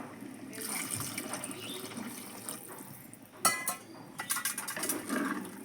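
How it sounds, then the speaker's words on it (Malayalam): Water poured into a simmering jackfruit-seed curry in a pot, a steady splashing pour with a few sharper bursts of liquid hitting the surface, close by and without talk. "ഇനി ഒരിത്തിരി വെള്ളം കൂടെ നമുക്ക് ഒഴിച്ചു കൊടുക്കാം"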